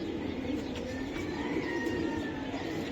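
Giribaz high-flyer pigeons coo softly and repeatedly at close range, low rolling calls over a steady background hum, with no talk.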